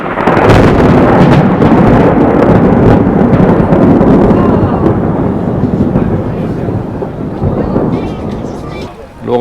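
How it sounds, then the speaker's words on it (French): Thunder rolls through a storm over Lake Titisee in the Black Forest, a loud, sustained rumble with wind buffeting the microphone that slowly eases off. "L'orage se lève."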